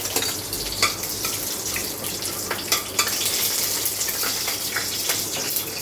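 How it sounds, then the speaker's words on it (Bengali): Whole cloves, cardamom, cinnamon, mace and a bay leaf sizzle in hot oil in a home kitchen, a steady close frying hiss with a few light clicks and scrapes and no talking. "আমি তেলের মধ্যে লবঙ্গ এলাচ দারচিনি আর তার সাথে একটু জয়িত্রী ফোড়ন দিচ্ছি, আর দিলাম একটা তেজপাতা।"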